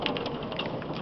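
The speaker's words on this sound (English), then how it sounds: "check out this freaking hailstorm" Steady dense pattering of hard precipitation hammering down, with scattered sharper impacts, continuous and fairly loud throughout the short stretch.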